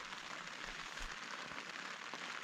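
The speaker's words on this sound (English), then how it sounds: "So there's a lot of rain" Rain falls steadily on a remote high-altitude road in Colombia during a cycling trip, a dense, even hiss with no talk over it.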